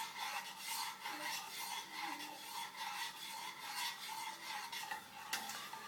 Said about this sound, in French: Bien mélanger, que la gélatine fonde bien et se répartisse